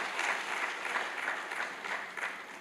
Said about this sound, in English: Please, can we just clap for her?